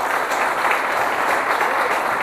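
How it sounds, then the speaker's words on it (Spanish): An audience at a men's church congress workshop gives a strong round of applause, a continuous dense wash of many hands clapping that holds evenly throughout. "Y yo creo que ustedes merecen un fuerte aplauso también."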